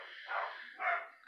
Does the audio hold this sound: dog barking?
yes